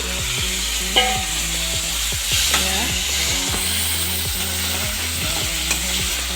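Chopped tomatoes sizzling in a pan for an eggplant and egg dish, a loud bubbling fry with repeated scraping strokes of a spatula over a low background hum.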